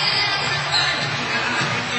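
A large hockey arena crowd at Copps Coliseum during the 2007 Calder Cup Finals Game 5 trophy celebration, a dense, steady roar of cheering and chatter filling the whole brief moment.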